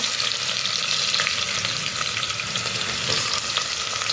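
Onion sautéing in oil in a pan for a misal, a dense continuous sizzle and crackle with faint stirring, steady and close, no talking.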